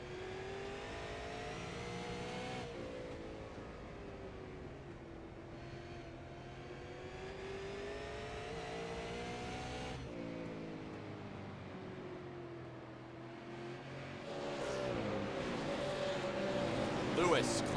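On-board sound of the number 7 Mustang late model race car at Hickory Speedway, engine droning loud and steady with pitch rising and falling through the laps, a commentator talking over it.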